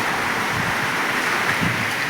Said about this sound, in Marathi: थोडं पाऊस यायला चालू झाला आहे म्हणजे थोडं थोडं टिपका टिपका येतोय